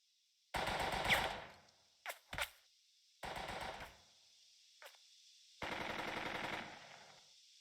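Machine gun fire in the Burden of Command video game, several separate rapid bursts of clattering shots with short pauses between, loud and crisp against near silence.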